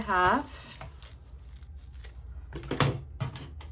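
Scissors make a few brief, close snips through craft material for a spring tulip wreath, following a short spoken remark.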